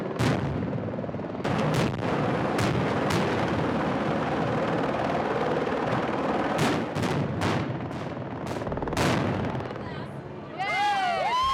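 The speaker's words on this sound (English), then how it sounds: "We just got to just stand here and watch a huge, awesome explosion." A huge staged explosion on a TV series film set, a long roaring blast with sharp cracking bursts and rumbling debris, loud and sustained, ending with whistling fireworks-like trails.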